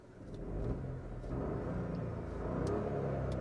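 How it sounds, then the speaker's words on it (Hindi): A Citroen C3 Aircross three-cylinder engine runs at idle with a low, slightly uneven rumble and faint vibration, close and steady, with a few soft ticks and clicks. "देखो एक बार इंजन आप सुनना"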